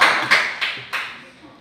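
A 7A junior high classroom claps together in unison, four sharp reverberant claps spaced evenly, each fading into the room before the next.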